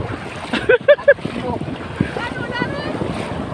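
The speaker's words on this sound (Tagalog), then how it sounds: "Malalaki yung mga alon mga Karisarte. Mahangin kasi" Big waves and gusting wind on open water at Silago, with a boat nearby; steady wind rush and surf fill the clip while a few loud, brief harmonic calls or shouts break through near the start.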